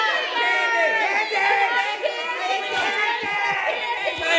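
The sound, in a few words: children cheering for Billy Bonka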